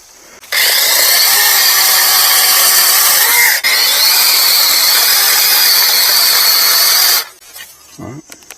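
A Sainlogic 21-volt brushless mini chainsaw with a 6-inch cut runs loud and steady while cutting wood on a trail, a continuous high whine lasting about seven seconds with one brief dip in the middle before stopping.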